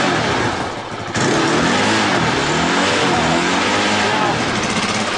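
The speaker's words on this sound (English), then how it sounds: "Rev it up to like 7 grand." A motorcycle single-cylinder thumper fitted with an HHO hydrogen unit revs hard toward 7,000 rpm, a loud sustained close-up roar that dips briefly and then holds high, with voices faint underneath.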